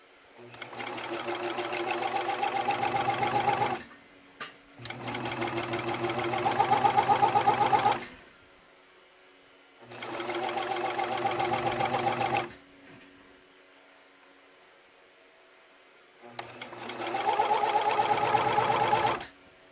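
A serger sewing machine stitches and trims fabric in four long whirring runs, each a few seconds long and separated by quiet pauses, close and steady.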